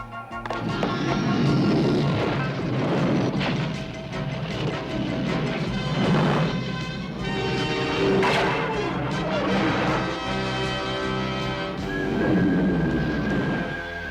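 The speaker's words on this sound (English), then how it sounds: "No, same missiles, heat-seeking missiles." Heat-seeking missiles in a cartoon battle scene whoosh and explode as rumbling crashes and bursts, with layered blasts and booming impacts spread through the clip.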